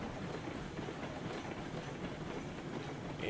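Train rolling into a rail yard in the RailRoads Online game, a steady rumbling roll with faint wheel clatter, continuous and moderately loud throughout, with no voices.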